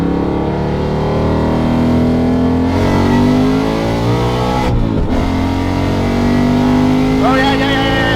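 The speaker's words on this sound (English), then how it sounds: "It's not the loudest car I can start up." A 700 whp procharged Ford Mustang engine runs loud and steady throughout, with a brief dip and a rise in revs near the end, while people talk nearby.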